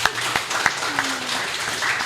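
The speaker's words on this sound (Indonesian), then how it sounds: "Ya. Tepuk tangan." Audience applause breaks out at a gathering in Cilegon, a steady wash of clapping heard briefly with a few sharper claps standing out.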